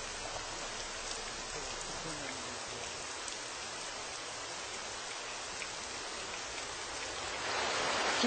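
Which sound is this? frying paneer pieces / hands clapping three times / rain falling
rain falling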